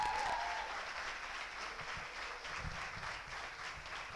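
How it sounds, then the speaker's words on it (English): An audience at an award ceremony applauds support staff such as drivers, housekeeping and security, a steady, moderately distant wash of clapping throughout. "Each one of them deserve a big round of applause and thanks."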